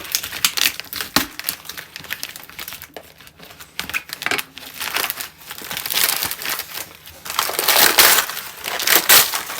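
Double-sided Christmas wrapping paper, heavily taped, is torn and crumpled open in continuous close, loud crinkling and ripping bursts, with no talking.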